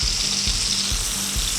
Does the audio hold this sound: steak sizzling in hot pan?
yes